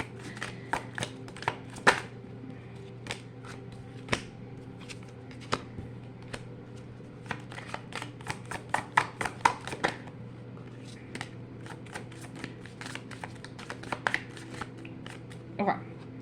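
A deck of cards is shuffled in close, rapid bursts of sharp riffles over a steady low background hum, with a voice talking intermittently.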